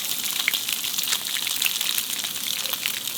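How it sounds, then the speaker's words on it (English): Fish sizzles in a pan over a camp cooking setup, a continuous crackling hiss with scattered sharp pops of spitting oil. The frying is close and fairly loud throughout, with no voices. "While the fishies are frying, I'm gonna make some aioli to go with them."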